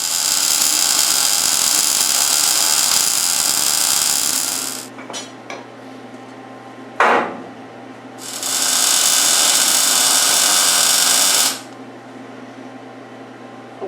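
Welder tack welding motor mounts for a GMC V12 engine, two long loud steady buzzing runs, close by, separated by brief pauses and a short sharp burst.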